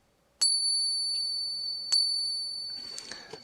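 A Morgan silver dollar pinged twice about one and a half seconds apart, each strike giving a clear, high, sustained metallic ring that fades slowly, close to the mic, followed by faint rustling.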